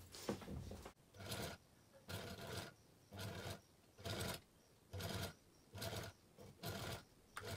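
A sewing machine stitches a small tassel in a bedroom, heard from across the room in short regular runs, about eight bursts of roughly half a second each, faint.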